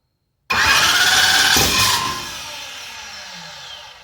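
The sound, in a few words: Hemi engine starting and revving with throttle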